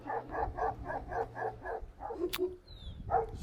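A dog barks in a quick run of about eight yaps, then pauses and gives a couple more, fairly faint and slightly distant.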